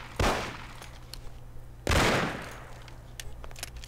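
Two heavy bursts of machine gun fire in the video game Mafia, each a loud crack with a long decaying tail, separated by a short pause over steady background hum.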